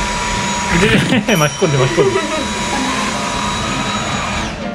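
A household vacuum cleaner runs steadily as a loud, continuous broadband drone, with people talking over it and a toy poodle nearby.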